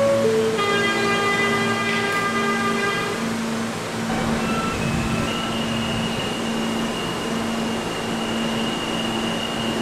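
An R160A M subway train running in Roblox gives a steady, continuous rumble with sustained tonal hums and a rising whine, loud and unbroken across the whole span with no talking.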